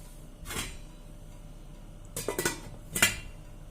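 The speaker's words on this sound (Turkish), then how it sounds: "Tabak kapatıyorum üzerine." A few close ceramic and metal clinks as a plate is set down over a pot of stuffed cabbage rolls, with one soft knock first, then quiet.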